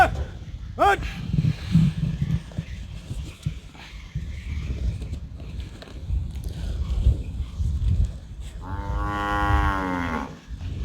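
Cows moo at close range while being fed jaggery by hand outdoors, with a long harmonic low at the end and earlier calls, beneath rustling and people talking throughout.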